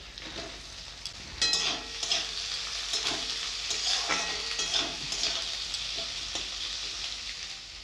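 Chopped onions frying in hot oil with nigella seeds, bay leaf, green chilies, garlic and ginger, a steady bright sizzle under irregular stirring scrapes and occasional utensil knocks against the pan, with no talking.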